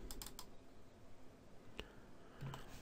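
A computer mouse double-clicks while making a Photoshop selection, with a faint quick pair of clicks at the start and a few more isolated light clicks in a quiet room.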